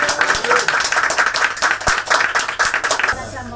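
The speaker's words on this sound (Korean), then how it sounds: "우리 어머님 힘내시라고 우리 박수 한번" An audience claps for a grieving mother at a Kesennuma gathering, a dense, steady round of many hands close by that runs for several seconds before tapering off.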